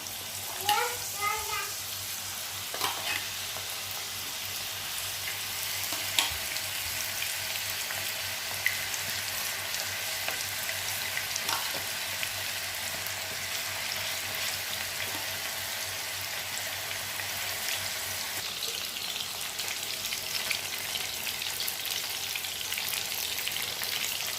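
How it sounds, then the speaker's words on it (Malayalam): Chicken frying in hot oil for a Hyderabadi chicken fry, a steady broadband sizzle running throughout, with occasional clinks and stirring taps and brief water sounds. "അപ്പോൾ നമുക്ക് ഫ്രൈ ചെയ്യാൻ തുടങ്ങാം. എണ്ണ ചൂടായിട്ട് ഇട്ട് കൊടുക്കാം."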